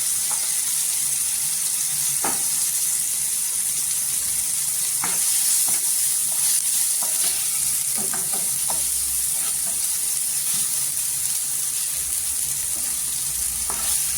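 Dry spices (turmeric, coriander powder and Kashmiri red chilli powder) sizzle in hot oil on a live gas flame as tempering for a potato bhaji, a steady close frying hiss with occasional stirring clicks and no talk.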